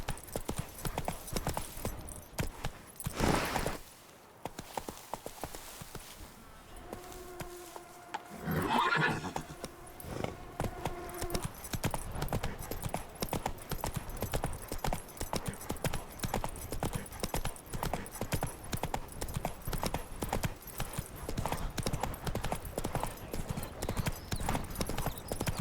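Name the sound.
horse Roach galloping in video game The Witcher 3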